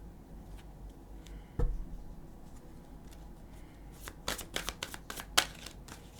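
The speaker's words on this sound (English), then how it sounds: "These cards are so hard to shuffle." A deck of stiff tarot cards being shuffled by hand, with a single thump and then a run of quick, close riffling clicks and flutters near the end.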